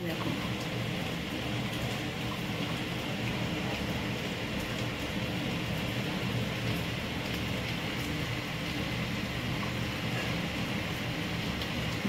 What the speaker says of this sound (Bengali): বৃষ্টি হয়ে চলেছে অনবরত